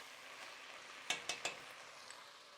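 Tomato paste sizzles faintly in a pan while it is stirred, a soft steady hiss broken by three quick scraping clicks of the utensil near the middle.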